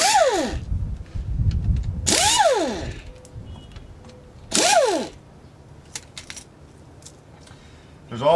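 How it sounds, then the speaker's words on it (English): A Florida Pneumatic air ratchet spins oil pan bolts out of a Cummins 5.9 6BT engine, producing three loud, close, whirring bursts that rise and fall in pitch, separated by quiet pauses with faint clinks. "I'm going to use my handy dandy Florida pneumatic air ratchet"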